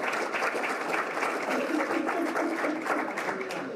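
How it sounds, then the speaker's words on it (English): Audience applause fills a Rotary club luncheon meeting with steady, moderately loud clapping, and voices talk over it throughout. "One big round of applause."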